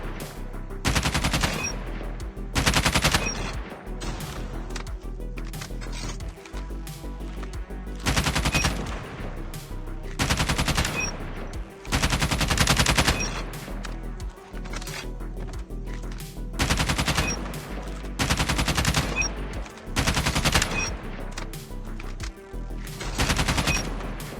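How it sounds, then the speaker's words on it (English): Rapid bursts of gunfire in Call of Duty Mobile practice mode, loud repeated volleys of automatic fire shooting at targets, separated by brief pauses, with no talking. "aim away from the target, then flicking to it and start shooting."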